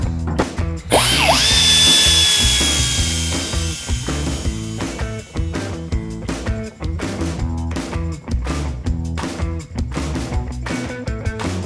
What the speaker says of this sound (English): what I have to use is a little power grinder like this, little belt grinder